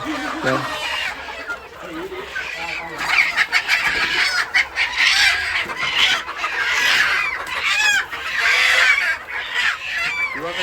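A crowd of village chickens on a farm clucks and squawks continuously nearby, with a voice talking underneath.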